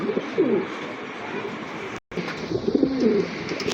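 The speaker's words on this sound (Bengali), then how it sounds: "এক জোড়া ব্ল্যাক শোকিং কবুতর খুবই অ্যাক্টিভ" A pair of black-coloured pigeons for sale coo repeatedly in low, throaty bursts, close by, over a steady background hum with a brief gap midway.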